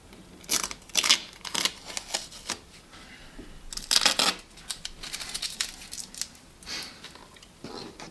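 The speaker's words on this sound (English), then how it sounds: "Take the masking tape off." Masking tape peeled off a car interior panel during a stereo install in a Toyota 86 TRD 14R, heard as a series of short crackling rips and tugs in uneven bursts, close and fairly quiet.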